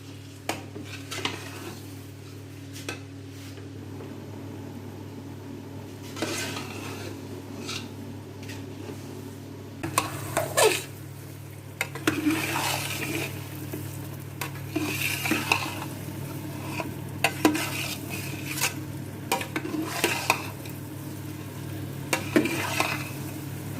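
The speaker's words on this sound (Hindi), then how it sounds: "भुनाई के दौरान इसी तरह हमें इसको घुमाते जाना है, हलवे को इधर उधर की सूजी को इधर उधर करते रहना ताकि ये जले ना।" Semolina halwa roasting in a large quantity of oil, stirred continuously with a utensil scraping and knocking against the pot, with a soft sizzle underneath; the scraping strokes grow busier and louder partway through, and no one speaks.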